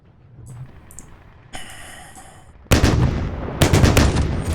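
Gunfire in the war strategy game Combat Mission Red Thunder during the Battle for Seelow Heights, building from scattered distant shots to loud, dense bursts of rapid fire.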